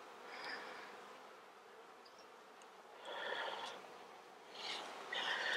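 Honeybees buzz faintly around an open beehive during spring build-up, a low continuous hum with a few louder swells as bees pass near, and no one talking.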